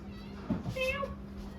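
A house cat gives a single short, rising meow close by, with a person speaking around it.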